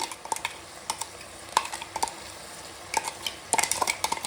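Onion and garlic paste cooking in oil in a pot, heard mostly as the intermittent clinks and scrapes of a metal spoon stirring against the pot, with a faint sizzle underneath.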